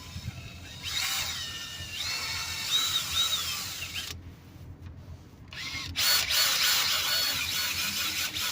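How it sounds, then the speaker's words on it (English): Cordless drill bores into a mat during a budget fuel tank repair, its motor whine rising and falling in several short bursts with brief pauses, close and fairly loud, with no talking. "I don't mind drilling into my mat."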